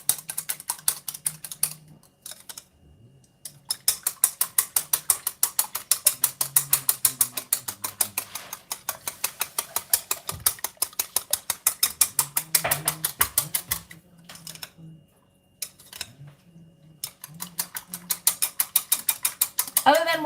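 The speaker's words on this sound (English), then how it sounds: "Let's just give this a quick whisk." Whisk beating homemade waffle batter in a bowl, a fast steady clatter of rhythmic metallic ticks in long runs with short pauses, close and fairly quiet, with faint kitchen noise beneath.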